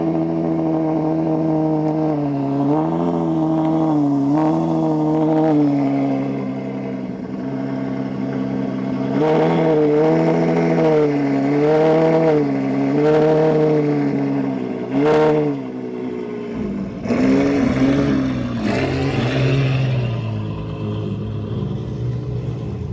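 A Ferrari F12 and a Range Rover Sport SVR rev loudly close by in a car park. A steady, powerful engine drone swells and dips in pitch, with a sharp burst and a fresh rev near the end.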